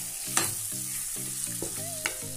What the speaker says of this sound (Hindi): अब हम चिकन को मसाले के साथ अच्छे से मिला के भूनेंगे